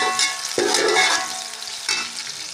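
Cumin seeds frying in hot oil until brown, a steady close sizzle with scraping stirs that break in sharply around the half-second mark and again near the end, no voices.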